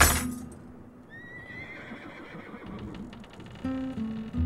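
Altivo, the horse from the animated film The Road to El Dorado, whinnies in a loud wavering neigh that rises over a rustling background, with faint hoof clatter and a few short sharp snorts and tones near the end.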